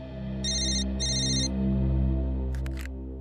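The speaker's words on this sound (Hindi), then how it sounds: "फ्रेडी मोबाइल कंपनी को फोन करो और पता लगाओ ये नंबर है किसका" A telephone ringing during a call to a mobile phone company, two short bursts of electronic ring tone followed by a few sharp clicks, heard clearly over a low steady hum.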